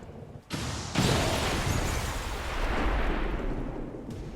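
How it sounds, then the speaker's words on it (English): A rocket launch in XCOM 2 Long War of the Chosen: a sudden loud whooshing roar that bursts in and sustains as a dense rushing blast for several seconds, close and powerful, with no talk. "Firing rocket!"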